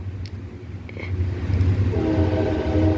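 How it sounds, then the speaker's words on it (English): A passing train rolls by with a low continuous rumble, and a sustained horn blast sounds toward the end, loud and close. "Oh, here comes the train."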